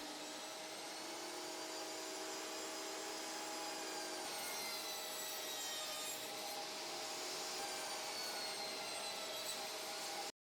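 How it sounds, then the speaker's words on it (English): Thin pine strips about 3/32 inch thick are ripped for edge banding, giving a continuous loud saw whine and rasping cut that runs for about ten seconds with no talk. "I went ahead and made my own edge banding, ripping strips of pine at about 3/32 of an inch"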